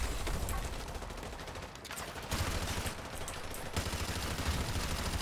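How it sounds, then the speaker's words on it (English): Gunfire in the video game Modern Warfare 2 Remastered during a campaign mission: dense, continuous shooting with overlapping bursts, loud and steady throughout with no pauses in the barrage. "Who the heck is shooting me?"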